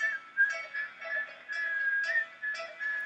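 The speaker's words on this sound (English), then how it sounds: "whistling" Steady human whistling carries a wavering, slightly bending tune in short phrases with small breaks, clear and fairly close, with no talk over it.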